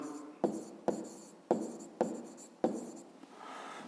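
Handwriting on paper during a fifth-grade maths exercise, with five distinct scratchy pen strokes at an even pace, each with a crisp attack and a fading scrape, heard up close with a soft rustle at the end.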